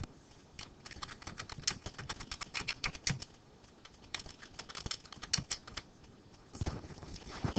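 Quick bursts of keystrokes on a computer keyboard as a name is typed, close and fairly quiet, with irregular pauses between runs of clicks and no talking.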